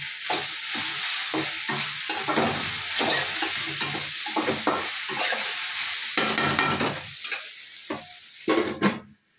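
Okra sizzles and fries in a pan while being stirred, with repeated scraping strokes over a constant crackling hiss.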